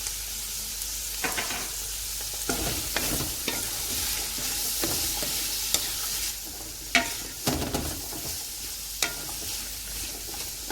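Whole spices with white pepper, dry coriander, white cumin and salt frying for pulao, a continuous sizzle broken by repeated scraping stirs and clinks of the spoon against the pan.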